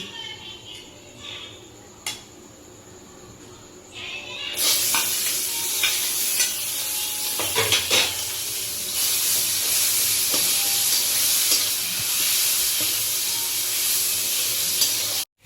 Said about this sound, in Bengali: পেঁয়াজটা আমরা ভেজে নিয়েছি